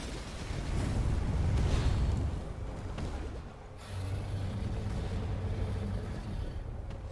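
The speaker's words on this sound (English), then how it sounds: "That fire breath just hurts." A boss in Path of Exile unleashes a fire breath attack, a roaring, rumbling burst of flame and low booms that swells, dips briefly midway, then resumes as a sustained heavy blast with a faint tonal hum underneath.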